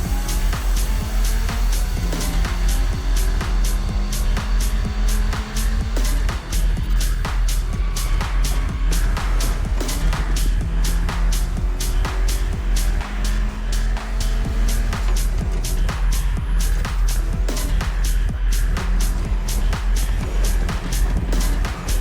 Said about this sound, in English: Hoonigan Racing has provided a custom Mitsubishi Lancer Evolution 6, timed to truly put on a show in the heart of Honolulu.